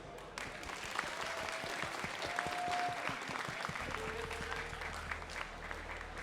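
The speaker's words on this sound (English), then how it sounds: "Once again, round of applause for MALISZEWSKI." An esports tournament audience applauds steadily throughout, a dense wash of clapping with a few cheers and faint voices under it.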